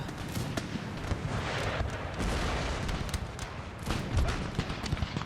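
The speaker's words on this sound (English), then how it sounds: "Come on, cannons, do your job." Cannon and musket fire in Empire: Total War crackles and booms continuously in a dense battlefield din, with volleys of musketry layered over deeper cannon thuds and scattered sharper reports standing out.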